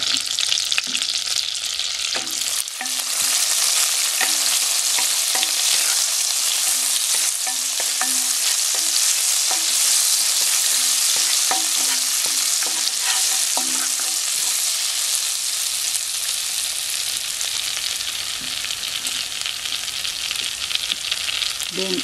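Sliced garlic frying in butter and a little leftover oil for beef stroganoff, a steady close sizzle with crackling bubbles and occasional stirring scrapes, no voices.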